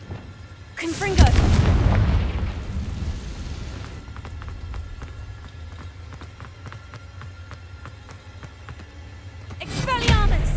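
A Confringo blasting spell explodes in the video game Hogwarts Legacy, giving a loud, booming burst that rolls on for a few seconds, followed by a lower rumble and another burst near the end, with a voice speaking.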